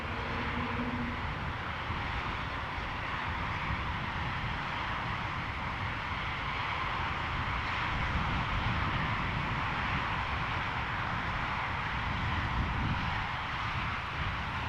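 A China Airlines Cargo jet at Amsterdam Schiphol, bound for Bangkok, produces a steady, broad engine roar that stays fairly distant and even for the whole stretch, with no talking.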